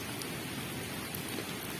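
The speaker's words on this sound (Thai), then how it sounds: "ฝนตกแล้วนะครับนะ" Steady rain falls beside water at a fishing spot, an even continuous hiss with faint drop patter, no voices.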